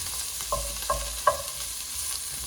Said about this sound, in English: we're going to put in the sausage. We're going to brown that too